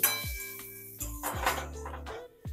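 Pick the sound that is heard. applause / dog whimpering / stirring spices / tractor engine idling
stirring spices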